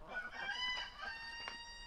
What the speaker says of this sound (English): Now the rooster wants some food.